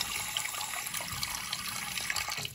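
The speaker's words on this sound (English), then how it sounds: "All right, slow draining sink." Water runs steadily and close up into a slow-draining, stopped-up bathroom sink, a continuous splashing rush with no pauses.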